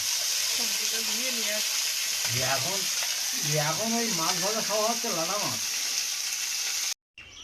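Oil in a wok gives a continuous bright sizzle and hiss as dried chilies go in for a home-cooked meal, with a person's wavering voice over it and a brief dropout near the end.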